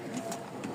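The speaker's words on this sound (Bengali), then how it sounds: "চলে যাচ্ছে 3 জোড়া গিরিবাজ।" Giribaz pigeons give soft, low, muffled coos in a short burst, close by and alone without any voices.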